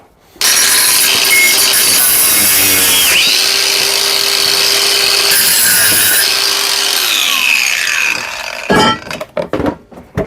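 A power saw cuts steadily through a metal exhaust tip for a Volvo 240, a loud continuous grinding rasp with pitch shifts, ending in a few short clattering bursts.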